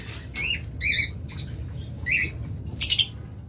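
A pair of lovebirds gives several short, bright chirps and squawks at close range, ending in a rapid burst of three sharper calls, over a low steady background hum.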